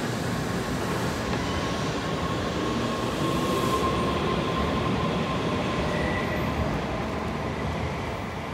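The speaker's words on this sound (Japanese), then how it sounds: "この列車は小田原に停車する東京方面の新幹線の最終列車であり、" A Shinkansen Hikari bullet train at Odawara station gives a steady, loud, continuous rumble and rolling roar, with a faint high tone and a little wheel noise running throughout.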